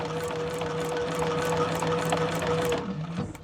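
Sewing machine stitching a Gabriella handbag from the inside, a fast, even mechanical chatter running close and steady before slowing at the end.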